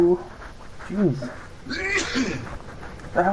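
A single sharp sneeze from a character in the video game The Walking Dead Season 1, fairly close and clear, with voices talking before and after it.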